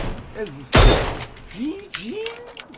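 A single loud, sharp burst of gunfire in the battle royale game PUBG, ringing out briefly near the start, with people talking before and after it.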